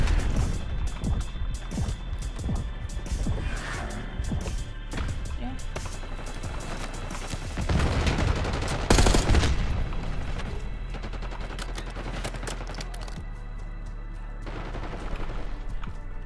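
Rapid gunfire from Call of Duty: Black Ops 6 rattles in dense, overlapping bursts for the whole stretch, with a heavier volley about halfway through, while game voices talk over the shooting.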